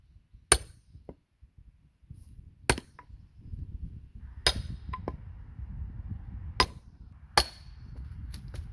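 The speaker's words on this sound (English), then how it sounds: "I'm going to hit it with the sledge part of this maul, slowly at first." Sharp, loud impacts of a maul's sledge face striking wood, about five or six spaced blows separated by pauses over a low background rumble.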